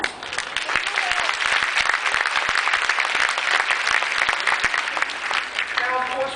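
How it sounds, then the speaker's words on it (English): A graduation audience breaks into loud, continuous applause with close, sharp individual claps over a dense crowd clatter, sustained throughout and fading slightly at the end. "you owe yourselves a round of applause"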